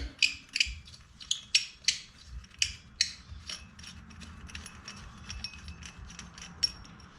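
A socket wrench ratcheting on a supercharger pulley of a Jackson Racing kit for an FRS, BRZ or GT86, a series of sharp close clicks in quick bursts, loud at first then fainter and irregular, with no talk.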